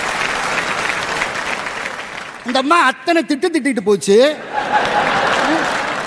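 Audience applause breaks out at a televised Tamil Pongal debate show, a steady clapping swell under a speaker's talk that briefly gives way to the voice and then returns.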